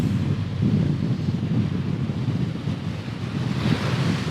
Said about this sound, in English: but the waves keep knocking him back.